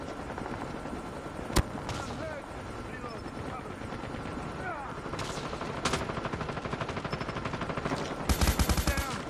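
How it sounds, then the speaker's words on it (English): Call of Duty battle with a stealth helicopter droning overhead, broken by sharp single gunshots and a late burst of rapid machine-gun fire, all close and loud. "Friendly stealth chopper inbound."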